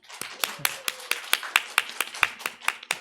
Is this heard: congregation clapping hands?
yes